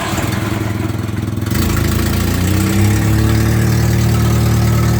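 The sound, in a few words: 1949 Jeep engine idling after a cold start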